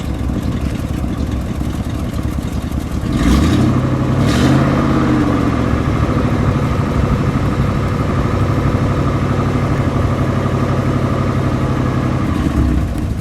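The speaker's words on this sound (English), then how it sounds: "Let's hear a little bit of what that 400 plus engine sounds like." A 1966 Oldsmobile Toronado's big engine idles low, then revs up sharply twice before settling back into a deep, steady rumble close by.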